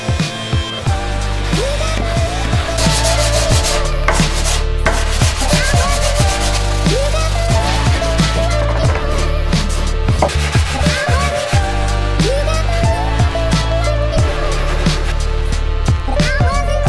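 Wood sanded by hand with sandpaper in a woodworking shop: loud, close, continuous back-and-forth rasping strokes in a steady rhythm, with no voices.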